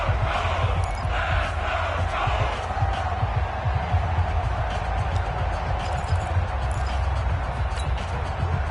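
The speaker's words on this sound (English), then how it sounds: "the crowd getting into it" Stadium crowd noise in the Madden 20 football video game, a steady dense roar of cheering that holds at an even level throughout.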